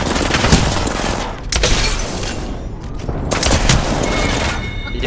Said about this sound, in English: Stupid minigun!